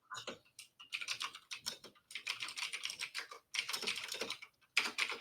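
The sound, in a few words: typing on a loud mechanical keyboard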